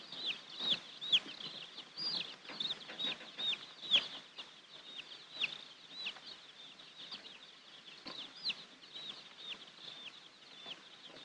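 A box of baby chicks peeps continuously in a 1950s railroad post office mail car, a dense, high chorus of overlapping chirps with no talking.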